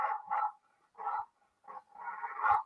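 Dogs bark as a played sound effect, several sharp barks and yips in quick bursts with short gaps, fairly close and alone without talk.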